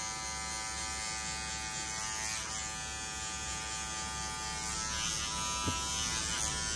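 Electric hair clipper cutting hair for a skin fade, a steady close high-pitched motor buzz that holds throughout with slight shifts in tone as the blade moves against the head; no talking.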